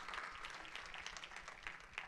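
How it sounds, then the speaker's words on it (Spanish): Faint, distant applause from a church congregation, a steady patter of many hands clapping throughout. "Denle un fuerte aplauso al Rey de la Gloria conmigo en este momento."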